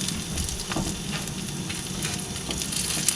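Spam frying on a 1950s Coleman picnic stove, a steady close sizzle and crackle with scattered small pops, heard alone without talk.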